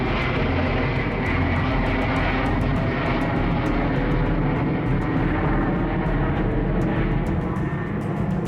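Large cargo aircraft, able to carry about 66 tons or a 126-soldier parachute unit, passing overhead with a loud, steady, roaring engine drone that fills the whole stretch without a break.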